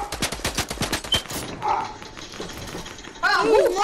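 Gunfire in an online shooter video game, with a fast burst of sharp repeated shots followed by a few isolated cracks, loud and close, as a player talks over the action.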